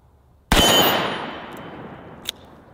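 .357 Magnum revolver shot at a steel target: one loud sharp report with a long decaying ring, then a brief faint metallic tick about two seconds later.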